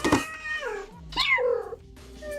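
A domestic cat meows insistently indoors, giving two or three drawn-out, wavering cries in quick succession, fairly close and clear with no talking.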